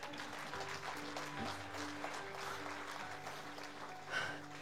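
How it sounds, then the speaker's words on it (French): Quiet applause from a church congregation, faint and somewhat distant clapping mixed with soft background music or hum. "Et tu peux applaudir à Jésus."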